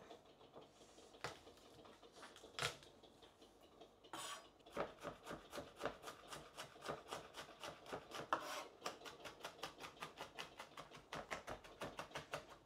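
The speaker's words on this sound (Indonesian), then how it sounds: "Ini aku punya 2 kemiri sama 4 bawang putih. Mau aku cincang dulu." Knife chopping two candlenuts and four garlic cloves on a board for beef balado, a fast, steady run of close, crisp taps after a few scattered scraping strokes, with no talk.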